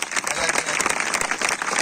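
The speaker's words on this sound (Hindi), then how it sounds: "जोर से ताली बजा दिया करो" Church congregation at a spiritual gathering clapping loudly, a fast, dense burst of many hands with uneven sharp peaks, close and energetic throughout.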